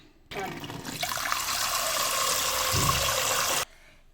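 One cup of raw rice being washed in water for jaggery rice (bellam pongali), with a steady swishing and splashing of water that runs for about three seconds.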